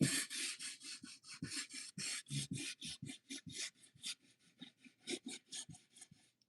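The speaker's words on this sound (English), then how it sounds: "So I am going to sand this and get some distressing on it." Hand sanding of painted wooden furniture to give it a distressed finish, a steady run of close, rhythmic rasping strokes, each one a short gritty scrape repeated at an even pace.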